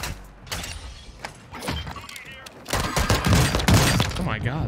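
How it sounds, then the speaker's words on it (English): Rapid pistol gunfire in Warzone 2 gameplay, sharp cracking shots in quick clusters mixed with game sound effects, growing denser and louder toward the end. "that guy's gunning me with a pistol"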